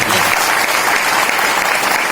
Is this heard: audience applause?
yes